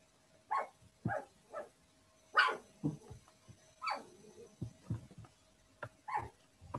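Small dogs bark and yip in a series of separate bursts, some sharp and some whining, close by and fairly quiet, with brief gaps between them.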